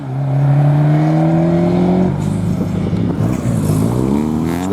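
A Ford Sierra Cosworth engine revs up loud and close at a Ford RS gathering, its rising harmonic drone climbing steadily before breaking into a rougher, throbbing burble as another engine mixes in.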